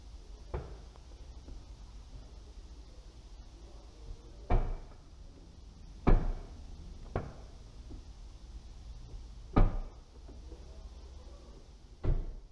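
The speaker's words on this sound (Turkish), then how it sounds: "Aracın kapı kapatma ve açılma sesini ilk başta test edelim." A 2020 Renault Clio 5 in a showroom has its doors opened and shut repeatedly: six separate solid thumps and clunks, spaced a few seconds apart, over a quiet room hum.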